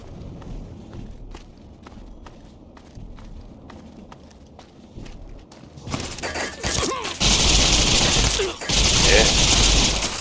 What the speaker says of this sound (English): A green laser shooting rifle that sets your enemies on fire.